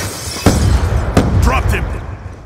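A sudden explosive blast in the multiplayer shooter Call of Duty: Black Ops 2, then further sharp bangs and gunfire in a busy firefight, with radio-style voice callouts over the noise.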